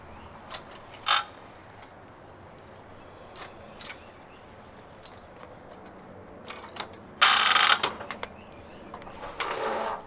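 Metal trim being bent on a sheet-metal brake for wrapping a house bottom, with sparse mechanical clicks and clanks, then a loud sharp metallic clatter of the bend near the end, in a quiet outdoor setting.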